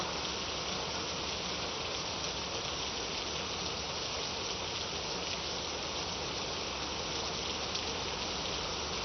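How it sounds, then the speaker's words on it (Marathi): Heavy monsoon rain pours down in Marathwada, India, during flooding, in a dense, continuous roar that stays steady and unbroken throughout. "पाऊस थांबत नाही आहे"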